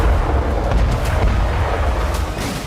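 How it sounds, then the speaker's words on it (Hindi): Heavy booming blasts and deep rumbling explosions from Russian Geran-2 drone strikes roll on continuously, with sharper bursts cutting through now and then. "रूसी गैरान-2 ड्रोन के धमाके"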